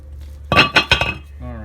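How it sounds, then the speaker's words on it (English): Old worn brake rotor slid off the front hub of a Pontiac G6, giving three sharp metallic clinks and scrapes in quick succession, close and fairly loud, before a faint ringing hum. "Our old yucky rotor, so this just pulls off through the front like this."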